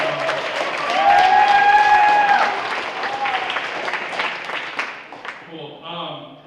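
Applause and some cheering from the audience at a high school marching band awards ceremony, loud and sustained through the middle, with voices mixed in and fading toward the end.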